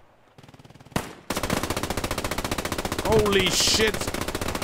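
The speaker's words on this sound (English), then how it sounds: "We got our German here unhinged with his MG34 going hipfire." An MG34 machine gun fired from the hip in Squad 44 rattles in long, loud, rapid automatic bursts, with an abrupt blast near the start and a voice exclaiming over the gunfire.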